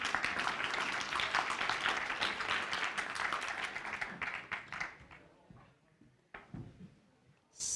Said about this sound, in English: let's welcome them on the stage with a big round of applause